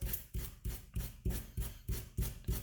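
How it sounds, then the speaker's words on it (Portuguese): Sandpaper rubs enamel off the ends of copper wire in quick, even back-and-forth strokes, about eight rough rasps in a steady rhythm, close and fairly quiet, with no talk. "vou pegar uma lixa e vou retirar esse esmalte. Então, vou lixar bem as pontas."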